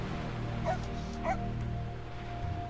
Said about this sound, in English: They add dog sounds